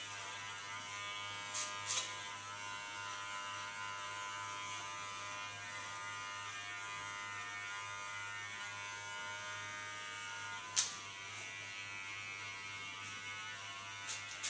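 An electric hair clipper with a clipper comb buzzes steadily while shaving a head, a constant close hum with a few faint clicks and no talking.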